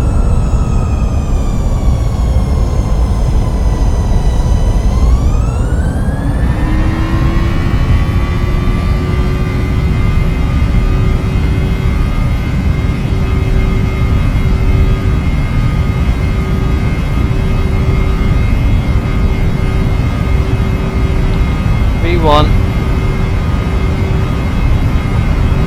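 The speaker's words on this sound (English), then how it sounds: "Rolling takeoff." A small airplane on its rolling takeoff down the runway, its engine drone loud and steady throughout, the propeller pitch sliding upward as power comes up and then holding a constant whine.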